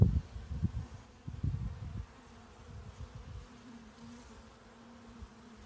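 Honey bees buzz steadily around an open hive during a spring emergency hive split, a close, continuous hum with loud knocks and handling thumps in the first two seconds.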